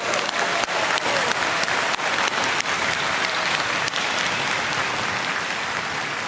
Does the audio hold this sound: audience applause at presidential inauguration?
yes